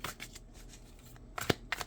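Tarot cards being shuffled before drawing the last card, a few soft papery riffles and flicks close by with a sharper snap near the end, quiet and without talk.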